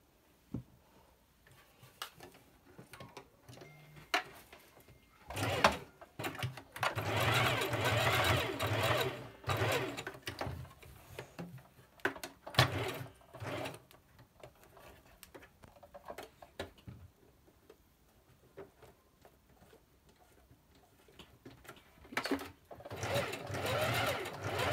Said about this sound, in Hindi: बस पहले हम किसी सादा कपड़े पे करके देख लेंगे, अगर स्टिचिंग ठीक आ रही है तो